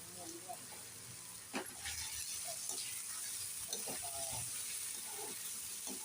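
Onions and chopped curry leaves fry in a pan for an egg curry, a steady hiss with scattered crackles that goes on throughout, while a voice talks faintly in the background.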